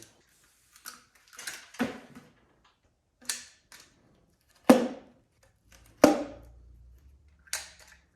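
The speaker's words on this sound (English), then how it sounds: "I think I'm gonna cut the rest of it with my trusty cutters here." Trusty cutters snipping through a rubber radiator hose during a G-body El Camino restomod radiator install, giving several separate crunchy snips and clicks spaced across the moment, fairly close and with no talking.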